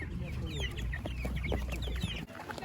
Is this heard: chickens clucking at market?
yes